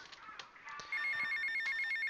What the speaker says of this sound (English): Oh, our first phone call.